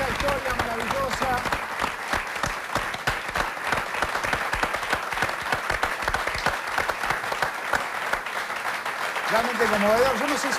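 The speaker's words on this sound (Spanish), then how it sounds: "Un gran aplauso para esta historia maravillosa." Audience applause at an Argentine event honoring the grandmothers and a recovered grandchild: sustained, dense clapping from a large crowd filling the whole stretch, loud and even, with a voice rising near the end.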